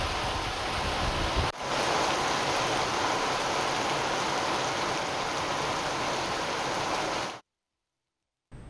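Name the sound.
heavy rain falling in Hyderabad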